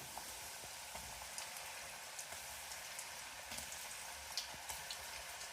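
Breaded banana balls fry in hot oil, giving a faint, steady crackle and sizzle with small scattered pops throughout.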